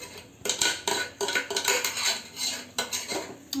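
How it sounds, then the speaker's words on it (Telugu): A pressure cooker lid set down and closed in a home kitchen while cooking coconut rice, giving a run of close metallic clanks and knocks, several sharp hits over steady handling noise, no voices. "కుక్కర్ మూత పెట్టేద్దాం"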